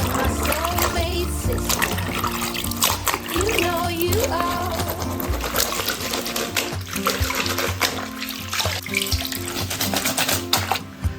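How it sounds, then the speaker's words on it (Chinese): Water pours and splashes in a basin while a large beef tripe is rinsed, a dense continuous running-water rush with sloshing and clattering handling, with a person talking over it. "倒水多洗上几遍。"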